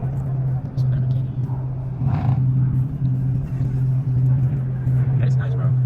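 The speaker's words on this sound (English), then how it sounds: "It's a Lamborghini." A Lamborghini idles with a steady low rumble at a car show at Atlanta Motor Speedway, close by, with a brief rev partway through and people talking over it.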